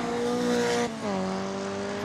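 A Renault Twingo rallycross car races hard with a high, strained engine note that drops sharply as it shifts gear, then climbs again, loud and close with no voices.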